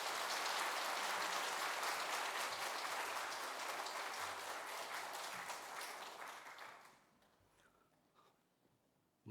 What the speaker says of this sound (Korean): 우리 나오실 때 큰 박수로 우리 환영하겠습니다.